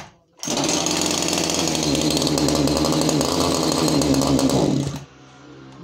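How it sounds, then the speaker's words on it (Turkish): Solax HR 2501 petrol pole saw engine running loud and close after a pull start, its two-stroke buzz rough and uneven as it misfires, for about four and a half seconds before cutting out. "Motor tekliyor arkadaşlar."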